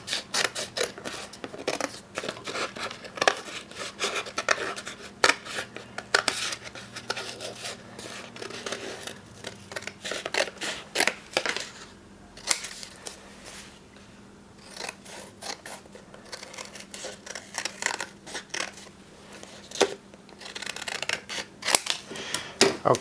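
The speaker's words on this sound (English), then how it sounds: "I'm just going to cut this out." Scissors snip steadily through a paper template for a plywood horn speaker, a long run of close, crisp cuts with brief pauses and no talking.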